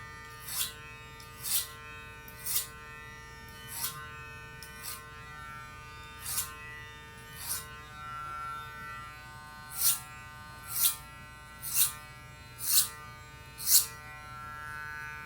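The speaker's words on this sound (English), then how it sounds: "You can hear listen to the motor speeding up." Electric hair clippers buzz steadily through a low fade haircut, with a repeated rhythmic sweep as the motor surges and speeds up against the hair, fairly faint and without speech.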